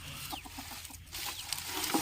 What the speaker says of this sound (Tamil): ஜோடியாக தெரியுதுங்க கோழியும் செவலும்